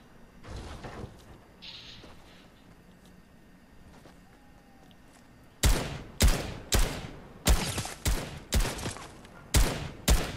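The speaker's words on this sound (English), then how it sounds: "Sounds like bot gunfire." Bot gunfire in an online shooter video game: after a quiet stretch of faint ambience, a loud run of evenly spaced single shots rings out close by, about eight sharp bangs in steady rhythm, with no talk.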